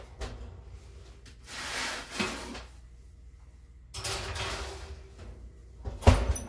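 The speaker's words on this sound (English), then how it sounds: "I'm gonna pop these in the oven" An oven door being opened and shut as a tray of peanut butter cookies goes in, with two long sliding, rumbling movements and a solid thud at the end, close by and with no voices.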